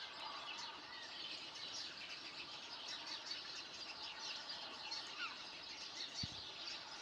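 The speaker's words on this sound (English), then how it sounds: "Look at those birds." A dense chorus of small birds chirps and twitters continuously in the morning, faint and distant against a steady outdoor hiss.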